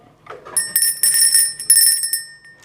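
A bright notification bell sound effect rings close and clear, several quick metallic dings over about two seconds after a short soft rustle.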